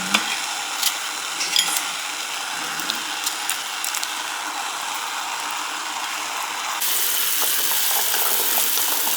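Quartered red onions hit a hot frying pan, giving a steady, dense sizzle that swells louder partway through and holds, close and continuous with no talking.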